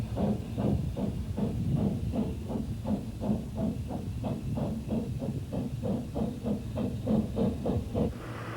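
Narrow gauge steam locomotives working on the Festiniog Railway in North Wales during a busy 150th-anniversary weekend, with a steady rhythmic chuff and throb of exhaust beats over a constant hiss of steam, fairly close and moderately loud.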